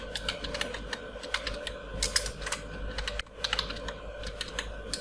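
Typing on a computer keyboard while working in Microsoft Word, with quiet, close, irregular key clicks tapping steadily throughout.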